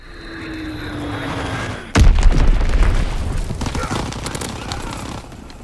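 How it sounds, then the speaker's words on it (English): An enemy bomb detonates in a Call of Duty match, a sudden heavy boom after a rising aircraft whine, followed by a rumbling tail and crackling debris, with voices in the background. "Enemy bomb incoming."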